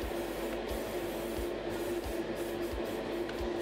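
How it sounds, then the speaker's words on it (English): High Coat Clear coat is sprayed from an aerosol can onto a model car's rim trim, a faint steady hiss with soft rhythmic low thumps beneath it. "To lock in the rim trim, I blast it with a coat of High Coat Clear."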